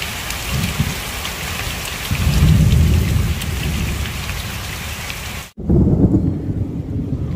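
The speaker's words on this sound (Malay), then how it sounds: "Petir di mana-mana" Heavy rain pours steadily while deep thunder rumbles in swells, loud and close, with a brief cut near the end before the downpour resumes.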